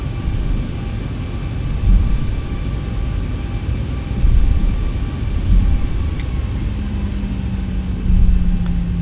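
Airliner in the X-Plane 11 flight simulator game, a Boeing 737 ZIBO mod, taxiing onto the runway: a steady low engine rumble and hum throughout, with a few soft swells and a faint tone joining near the end.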